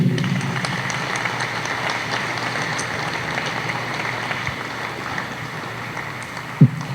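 An audience at a Bentonville High School Athletic Hall of Honor ceremony applauds an inductee with sustained, even clapping that fills the hall, with a few sharper claps standing out.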